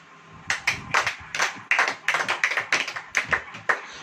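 A small group clapping in brief uneven bursts, with sharp separate claps rising and falling across the moment, fairly close, with no talk over them.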